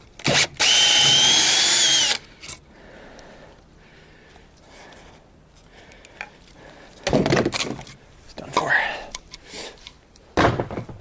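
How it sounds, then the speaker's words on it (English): A drill gun bores into trailer wall framing in a loud, steady burst of about a second and a half near the start, followed by scattered knocks, thumps and bumps of construction work, with people talking intermittently. "Get on my drill gun."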